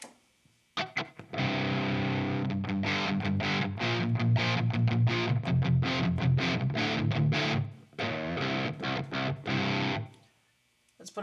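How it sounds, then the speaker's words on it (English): Electric guitar played through an Azor mini distortion pedal into an amp with a Mesa 4x12 cabinet. Loud, continuous distorted chords and riffs run for about ten seconds, with a brief gap near the end before a final strum. "Now let's turn on the distortion."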